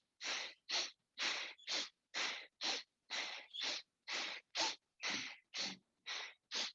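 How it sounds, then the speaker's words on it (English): Bhastrika breathing: fourteen forceful, evenly paced sniffs and puffs through the nose, close and loud with short silent gaps between them and no other sound. "Pull the belly out on the inhale, sniff, push the belly in on the exhale, puff."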